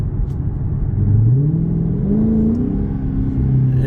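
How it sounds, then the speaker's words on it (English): A car's exhaust rumbles close by in track drive mode, a deep steady drone with rising engine pitch as the revs climb gradually. "Let's see if that changes anything on this exhaust note."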